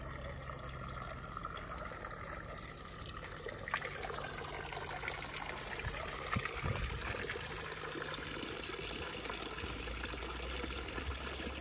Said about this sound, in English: This is my pond and waterfall, and this is how we stay cool in Slab City in the summertime.